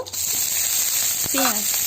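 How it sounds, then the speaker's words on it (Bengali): Close, steady sizzling of chopped onion and garlic frying in hot oil, with a brief scrape of stirring and a short squeak near the end. "পেঁয়াজ আর রসুন কুচি দিয়ে ভালো করে ভাজা করে নিয়ে"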